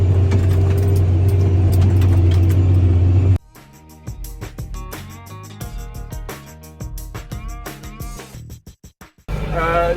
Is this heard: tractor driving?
yes